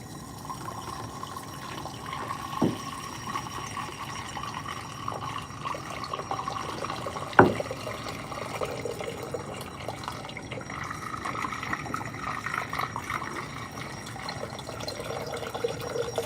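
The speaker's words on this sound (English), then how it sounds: "We're going to pour the water in." Water pours from a large bucket into a container in a home chemistry lab, giving a steady low splashing rush with one sharp knock partway through and no talk.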